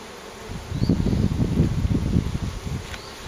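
Honeybees in a queenless hive making a dense, close, low buzzing drone that swells and holds steady, with faint rustling from frames being handled.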